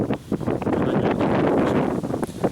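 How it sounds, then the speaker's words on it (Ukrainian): Strong wind buffets the microphone in loud, rumbling gusts, a continuous roar with brief surges and no voices. "дуже великий був вітер, будемо вирізати"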